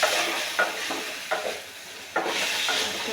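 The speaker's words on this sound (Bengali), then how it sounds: "কত সুন্দর করে ভাজা হচ্ছে" Spice paste for chicken soup fries in a pan with a close, steady sizzle, broken by several scraping stirring strokes at irregular intervals.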